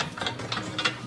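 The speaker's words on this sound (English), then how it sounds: "Screw the cutting edge up from underneath." The cutting edge of a chassis punch is screwed up from underneath by hand, giving three quick ratcheting, clicky mechanical bursts close by.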